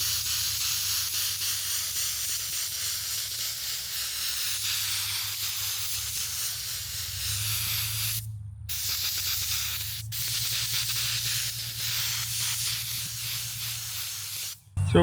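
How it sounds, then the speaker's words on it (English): A spray gun sprays glue across an auto headliner, a loud continuous hiss with a low compressor hum beneath, cutting off briefly twice before resuming, with no talking. "So we're going to spray the whole thing."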